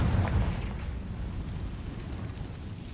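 A Confringo fire spell explodes in the video game Hogwarts Legacy, a deep rumbling boom that hits at once and then fades into a long, low roar.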